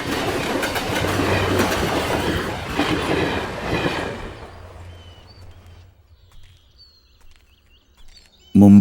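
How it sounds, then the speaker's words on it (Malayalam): A goods train rolls along rail tracks, loud and close, with rumbling wheels and clickety-clack for about four seconds before it fades into near silence, then a sudden loud burst at the very end. "ഖാലിദും ത്രിമൂർത്തിയും ചേർന്ന് കൊണ്ടുവന്ന ഗുഡ്സ് ട്രെയിൻ"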